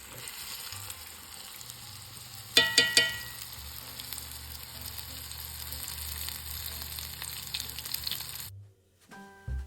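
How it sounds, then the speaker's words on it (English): Deer tenderloin steaks frying in hot grease in a pan give a steady, close sizzle and crackle, broken early by a few sharp clanks, before the sizzle cuts off near the end. "now we got our steaks in the grease"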